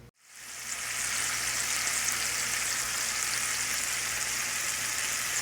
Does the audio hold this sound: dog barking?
no